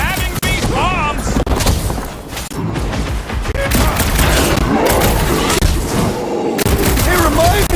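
Bombs burst in a Marvel's Guardians of the Galaxy combat scene, with rapid booms and crackling blasts layered with game voices and effects, loud and dense throughout.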